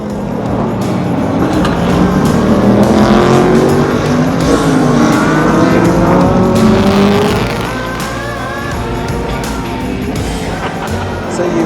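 Super GT race cars roar around the Okayama circuit, engines loud and continuous with rising and falling pitch as several cars pass nearby, tires squealing at times; a faint voice sits beneath.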